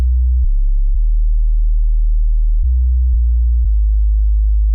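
A deep, pure sine sub bass from FL Studio's 3X oscillator holds low notes following a synth bass line, shifting pitch a few times, smooth and steady with nothing else playing.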